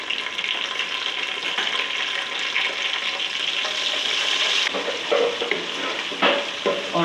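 Ginger-garlic paste fries loudly with browned onion in hot oil, a dense, continuous crackling sizzle heard up close. Stirring scrapes and bursts of spattering break through it near the end.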